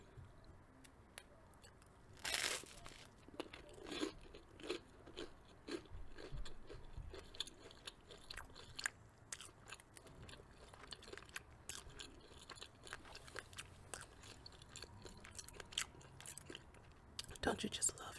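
Crunchy gluten-free toast being bitten and chewed up close, with sharp irregular crunches scattered over a quiet background and soft whispering at times.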